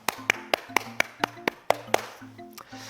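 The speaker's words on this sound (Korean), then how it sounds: "수고하신 모든 분들께 수고의 박수 하도록 하겠습니다" A church congregation claps at the close of a Bible study session: sharp, distinct claps in a steady beat over a low sustained tone, fading into softer scattered claps.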